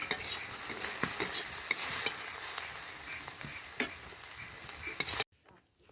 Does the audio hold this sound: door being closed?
no